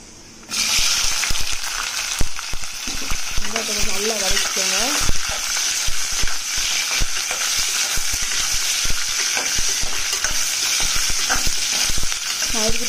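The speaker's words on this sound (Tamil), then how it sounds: "வெங்காயம் போட்டுக்கலாம்." Onions dropped into hot oil burst into a loud, sustained sizzle and keep frying in a pan, with stirring scrapes and clatters running through it and a brief voice partway in.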